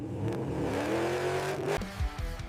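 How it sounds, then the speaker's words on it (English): A supercharged V8 Dodge muscle car with dual exhaust revs hard, rising engine tone and supercharger whine climbing before dropping off sharply, loud and close, with no talk. "The dual exhaust produces a deafening supercharger whine mixed with deep V8 thunder"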